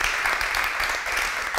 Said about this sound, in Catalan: gràcies Norma Falconi, gràcies Najat El Hajmi, i un aplaudiment per elles, jo crec.